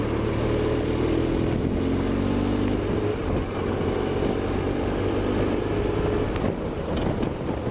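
A motorcycle cruises at steady, relaxed speed, its engine droning with a low, even hum and faint gear shifts, heard up close and alone with no talking over it.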